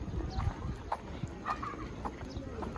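Horse hooves clip-clopping at Seoul Grand Park, a zoo setting, heard as a few irregular hoof knocks amid outdoor ambience while people chat nearby.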